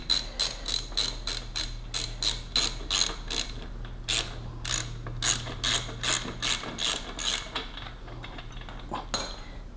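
Rapid ratchet clicking from a hand ratchet working the axle nut on a Ninja 300 motorcycle in a garage, steady bursts of sharp metallic pawl clicks close up over a low background hum.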